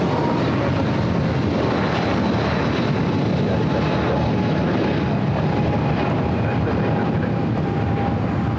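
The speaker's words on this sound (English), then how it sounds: "Spirit A321neo coming in from Newark, flight 2069, now crossing over 25 right." A Spirit A321neo comes in to land at LAX, its jet engines roaring loud and continuous in a broad rushing wash that stays steady from start to finish.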